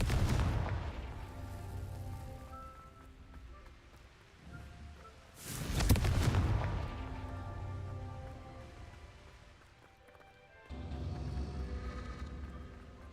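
Two loud booming blasts of the Confringo explosion spell in Hogwarts Legacy, each with a sharp crack and rumbling decay, separated by quieter ambient rumble, with a further low rumble swelling near the end.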